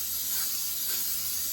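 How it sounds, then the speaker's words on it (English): Cooking spray hissing onto a tortilla press in one continuous, steady spray close by. "I'm just spraying with some cooking spray"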